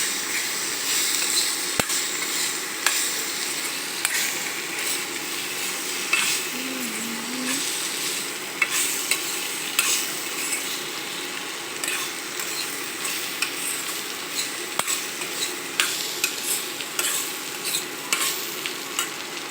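Boiled potatoes are stirred with chili powder in a hot pan, a steady frying sizzle punctuated by repeated spatula scrapes and taps against the metal.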